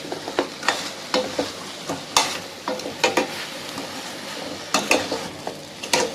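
A spoon scrapes and stirs through liver masala fry sizzling in a pan, giving repeated sharp clinks and scraping strokes over a constant frying hiss.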